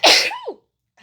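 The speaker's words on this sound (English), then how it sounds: "I know I've been sneezing and it doesn't hurt." A single loud, sharp sneeze bursts out near the start, trailing into a brief falling vocal tail, followed by near silence and a faint breath at the end.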